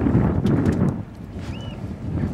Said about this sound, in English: As you can see, sailing away from the buoy under sail.